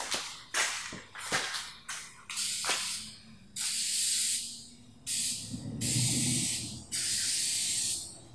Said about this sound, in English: Okay, let's spray and see if we can get a sheet off here.